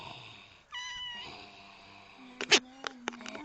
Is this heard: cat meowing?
yes